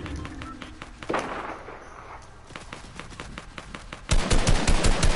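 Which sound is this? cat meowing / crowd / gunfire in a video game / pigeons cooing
gunfire in a video game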